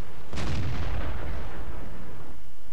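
A single heavy tank cannon shot from the game, a sharp loud boom that rolls off into a long fading rumble with no talk over it.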